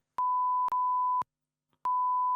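Three loud, steady tonal beeps, each about half a second long, with a short gap before the third, like a censor bleep.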